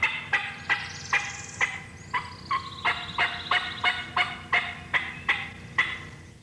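Wild turkey gobbling over and over, a rapid series of loud, rattling calls repeating in quick bursts across the stretch, fairly close in an open spring woodland with no talk.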